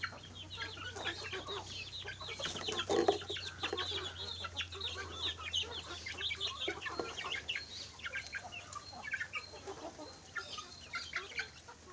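Steady clucking from a rooster and chickens, a busy farmyard chatter of many short calls over a low constant hum.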